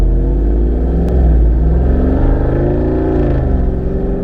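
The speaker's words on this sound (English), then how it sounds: "Nice little exhaust pop action as well." A 2023 Jeep Wrangler Rubicon 392 V8 engine rumbles loudly and steadily, revving under acceleration with a low, throaty exhaust note and exhaust pops close by.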